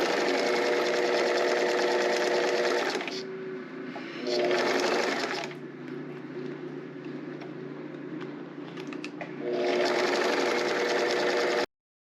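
A sewing machine with a Teflon foot and universal needle stitches fabric to clear vinyl using all-purpose thread, running in a steady whir that drops to a lighter hum midway before picking back up, close and continuous.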